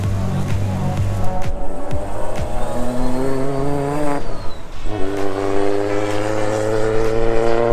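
A Toyota Supra race car's engine drones loudly and steadily at high revs, rising and falling through a brief drop before surging again, heard close on the Bordeaux Mérignac circuit.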